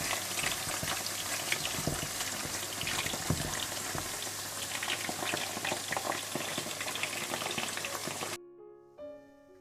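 Chicken pieces deep frying in hot oil for chilli chicken, a dense, steady crackle and bubbling sizzle that runs loud and continuous for most of the clip, then cuts off abruptly near the end into near silence.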